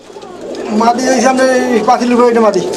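Pigeons coo softly and steadily in a low, rolling murmur at a pigeon farm, overlapping with a man's speech close by.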